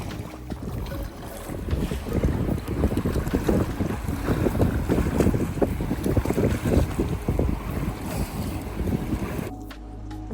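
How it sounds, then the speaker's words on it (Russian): Strong wind buffets the microphone from a rowing boat out at sea, a continuous loud roaring gust with splashing water underneath, steady for several seconds before cutting off abruptly at the end, with no voices. "Гребем, опять ветрено."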